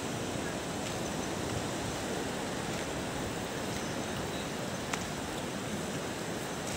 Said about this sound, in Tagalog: Nagka-high tide na kaya pataas na yung tubig.